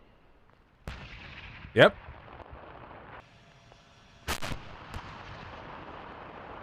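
A missile launch and gunfire in a video game, with a sharp burst followed by later booming blasts and crackling shots, and a voice speaking briefly between them.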